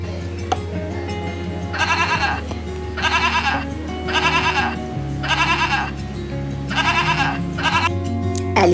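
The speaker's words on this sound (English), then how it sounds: "Goat, young one is kid." A goat bleats repeatedly, six or seven loud wavering calls in a regular rhythm over a low steady hum, close and clear with no talking.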